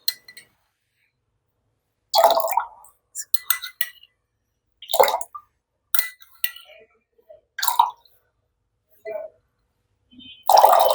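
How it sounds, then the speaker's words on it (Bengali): Spoonfuls of lemon juice go into a glass of dark iced tea, each addition a brief clink and splash. They come as several separate bursts with quiet gaps between them, close and clear, with no talking. "আমি কয়েক চামচ লেবুর রস দিয়ে দিচ্ছি।"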